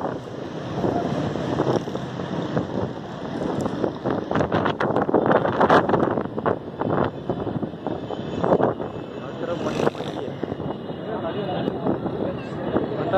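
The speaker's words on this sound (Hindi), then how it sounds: "ये देखें कितनी तेज़ हवा चल रही है।" Strong wind roars and buffets the microphone in gusts, with a voice speaking over the rushing noise throughout.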